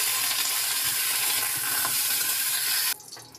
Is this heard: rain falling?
no